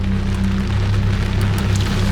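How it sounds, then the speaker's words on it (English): Rain patters steadily on a Lamborghini while it drives, a dense, loud hiss of drops over a low, constant road and engine rumble from inside the cabin. "Every time I drive, I'd rather just let the rain run down."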